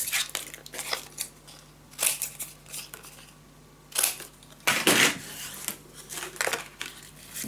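Scissors snipping the corners of paper for a handmade scrapbook travel mini album, giving a few close crisp cuts and rustles spaced over a quiet, lightly humming room, with no voices.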